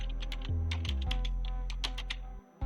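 Typing a Gmail account address on a computer keyboard, with crisp, fairly close key taps in an irregular run over a loud, steady low background drone.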